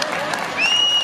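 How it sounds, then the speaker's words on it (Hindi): Crowd applause at a public address during a hunger strike in Arunachal Pradesh: a dense patter of many hands clapping that grows slightly louder, with a shrill whistle rising near the end. "इसलिए एक बार जोर से ताली हो जाए"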